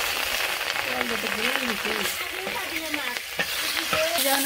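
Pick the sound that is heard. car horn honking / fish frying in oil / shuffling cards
fish frying in oil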